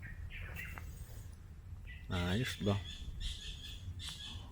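Birds chirp and tweet in short bright calls against steady outdoor background by a resort swimming pool at Dusit Thani Lubi Plantation Resort, with a person speaking briefly nearby.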